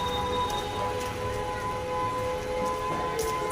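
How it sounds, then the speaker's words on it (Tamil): A steady, sustained siren tone signalling the start of aarti at a Shirdi temple drones without pause over a noisy background, with a few faint knocks and clatters around it. "சைரன் அடிக்கிறாங்க ஆர்த்தி ஸ்டார்ட் ஆகுது"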